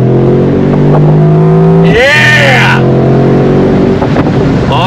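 A 2023 Mercedes-AMG SL 55 engine pulls hard on throttle, a loud close drone rising in pitch, broken by a quick shift blip before climbing again, with a voice shouting briefly.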